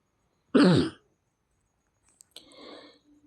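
A person with a cold gives one sharp, close cough and clears the throat, then after a pause a softer, rougher throat clearing follows, with silence between.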